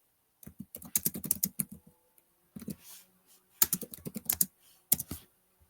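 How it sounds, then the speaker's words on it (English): Close, quiet typing on a computer keyboard in quick bursts of clicking keystrokes separated by short pauses, with no speech. "I'll type it into here."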